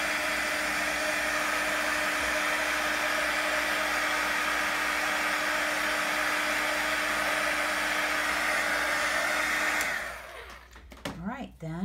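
An embossing heat tool blows hot air to melt embossing powder on a stamped butterfly design, giving a loud, steady whirring hiss up close for about ten seconds before it cuts off and rustling follows.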